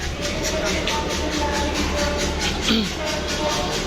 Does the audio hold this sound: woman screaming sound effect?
no